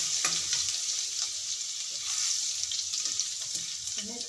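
Ginger garlic paste sizzling in hot oil with cumin seeds and asafoetida, a soft continuous frying hiss with occasional faint stirring scrapes and clinks.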